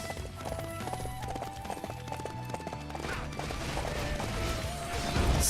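Video game horse hooves clip-clop in a steady rhythmic gait, fairly close, with faint mechanical clatter and a brief crash near the end.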